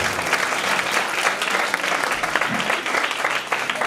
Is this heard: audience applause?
yes